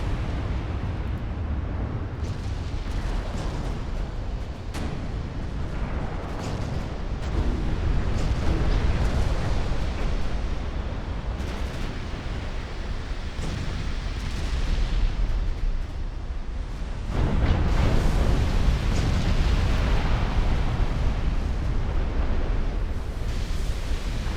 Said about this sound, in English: Now all the big guns focus down the battleship